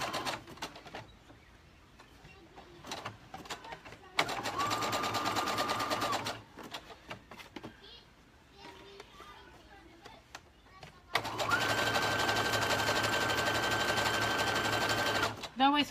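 A sewing machine stitches the outer body of a garment in two long steady whirring bursts, with someone talking quietly in the pauses between runs.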